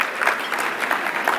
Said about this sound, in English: give yourselves a round of applause for being the real ones